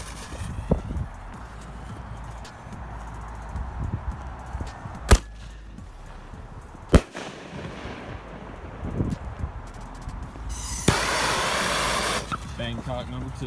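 A Ninja brand Bangkok shell firework launches from a cardboard tube outdoors, with a sharp thump followed by a second loud crack and a hissing burst later, amid wind noise and occasional talk.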